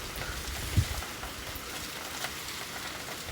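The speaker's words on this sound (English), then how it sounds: "It's raining and hailing at the same time." Rain and hail falling onto a street during a storm, a steady broadband patter of drops that stays fairly close and even throughout, with one brief low thump early on.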